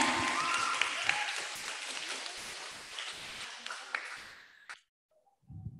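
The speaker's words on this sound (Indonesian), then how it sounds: "Beri tepuk tangan yang meriah untuk para pesertanya" A hall audience at a girls' Qur'an memorization competition gives the participants sustained, lively applause with distinct individual claps, which fades out and stops abruptly into near silence before faint voices return.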